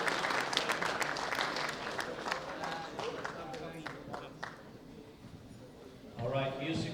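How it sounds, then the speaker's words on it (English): An audience at a world bench press championship applauds junior men athletes in a steady wash of clapping, fading slightly before swelling again, while an announcer's voice carries over it. "Big round of applause to these gentlemen."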